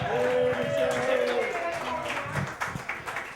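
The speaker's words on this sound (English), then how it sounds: "clapping until she's all the way up here" An audience at a story slam claps and cheers as a storyteller walks to the stage, a burst of applause that fades into scattered claps while the host keeps speaking over it.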